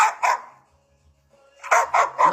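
A female dog barks in two bursts: two sharp barks, a quiet gap, then three more loud barks close by, with no talking.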